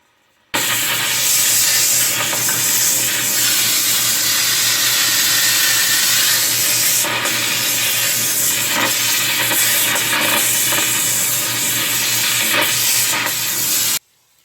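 Torch flame melting metal in a crucible for casting a wax-pattern ring, a loud continuous roaring hiss close up for about thirteen seconds, starting and stopping abruptly, with small crackles and shifts as the flame moves.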